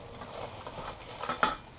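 A small stainless steel camping cup from a cookware kit is handled, giving a quiet metallic clink and rattle that builds to one brighter knock near the end, close and faint with no talking.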